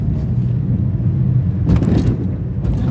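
A taxi passes on a busy road, heard from inside a car as a loud continuous low rumble of engine and tyres that swells briefly into a brighter whoosh near the end.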